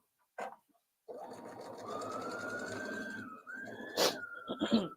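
A sewing machine stitches a memory bear, a brief burst of motor and needle, then a steady close whirring run for a couple of seconds ending in a few clicks and rattles as it stops.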